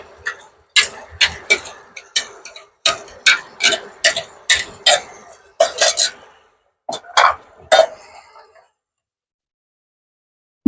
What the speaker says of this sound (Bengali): তেলের সাথে তো ভালোভাবে টমেটোর পেস্টটাকে কিছুক্ষণ নাড়িয়ে নিয়েছি